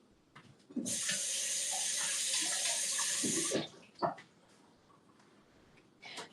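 Kitchen faucet running into a sink for a hand rinse, a steady close hiss of water for about three seconds that cuts off sharply, followed by a few faint clatters and knocks.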